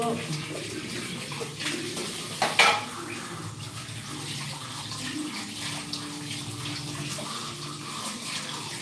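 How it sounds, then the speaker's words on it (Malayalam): Running water splashes while dishes and cutlery clink and clatter, with one louder clank partway through. "കഴിച്ചിട്ട് പാത്രം കഴുകുക അതിൻ്റെ സൗണ്ടാണ്"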